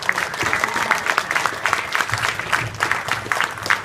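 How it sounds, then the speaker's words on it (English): A convention audience at a live show applauds its guests, lively clapping with scattered crowd noise that carries steadily through the whole stretch. "let's give a round of applause for all of our wonderful guests"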